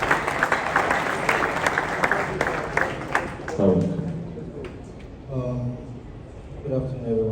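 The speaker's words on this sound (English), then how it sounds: "Round of applause, please." A crowd at a forex millionaire expo claps in a dense burst for a few seconds, then the applause fades out as a speaker begins talking over a microphone.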